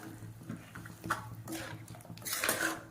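A spoon scrapes and knocks inside a pot of chicken curry being stirred, with irregular clinks and soft scraping strokes at close range and no voices.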